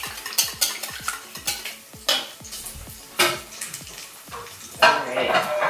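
A spoon stirs kosher salt and black pepper into a brunch casserole mixture in a bowl, making a series of quick clinking and scraping strokes, close and fairly loud, with a pause in the middle.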